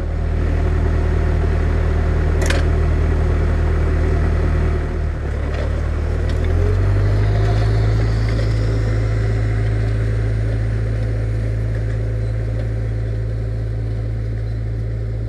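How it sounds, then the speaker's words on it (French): A tractor engine runs steadily with a seed drill turbine drawing suction while sunflowers are sown, a loud continuous low drone that shifts pitch partway through, with no speech. "Je suis obligé de laisser le tracteur en fonctionnement et la turbine avec un certain débit d'aspiration"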